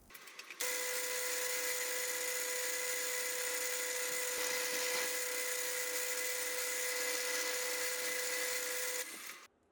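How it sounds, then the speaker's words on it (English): A metal lathe cuts an M40 x 1.5 thread for a collet nut, a steady high whine with a sustained tonal hum starting abruptly, running about eight seconds, then stopping. "So I'll get the thread cutter installed and cut the thread."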